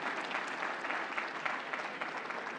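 A steady wash of audience applause at a university convocation ceremony, even and sustained for a short stretch without any voices rising above it.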